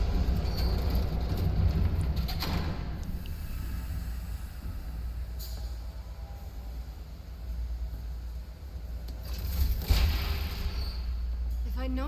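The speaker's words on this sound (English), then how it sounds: "There's a train coming. Take cover." A train passing in the Batman Telltale video game, a steady low rumble of wheels and carriages over twelve seconds with brief bursts of rattling and clanking, with voices speaking over it at times.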